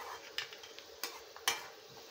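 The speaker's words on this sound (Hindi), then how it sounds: "दोस्तों, अब मैं इसमें डालूँगी आलू।" Potatoes meet onions frying in a pan, giving a faint sizzle under sharp scraping and clinking of a spoon against the pan, with several distinct clatters spread across a couple of seconds.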